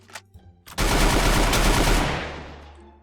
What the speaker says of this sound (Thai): ยิงเช็คไปก่อน ยิงเช็คอีกรอบหนึ่ง